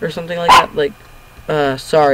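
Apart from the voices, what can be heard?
dog barking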